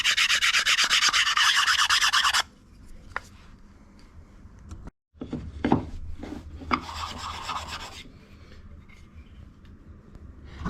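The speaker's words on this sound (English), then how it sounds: "Okay, so we're done now with the sanding." Steady rasping strokes of sandpaper hand-sanding a wood base, loud and close at first, then lighter scraping and handling sounds after a brief pause.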